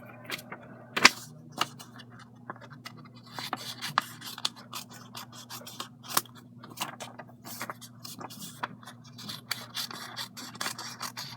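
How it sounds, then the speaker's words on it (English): Scissors snip and rasp through paper for a mini album, a steady run of small close cuts and rustling handling over a faint constant hum. "So that means I need to cut those two sides on both of them."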